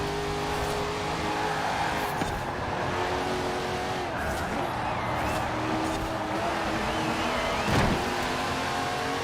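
An HSV GTS V8 car in Forza Horizon 4 drives a tight track, its engine droning steadily throughout with tyre noise and a brief louder surge near the end.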